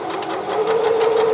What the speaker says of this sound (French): On va coudre la poche.